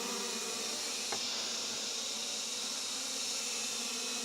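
Bees buzzing steadily around a rock hive during a honey harvest in the mountains, a continuous insect drone filling the scene with no talk.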